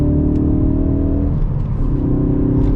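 A Ford Focus RS engine revs steadily at about 2,500 RPM, giving a loud, close, continuous hum that dips slightly midway before holding again, with no talk.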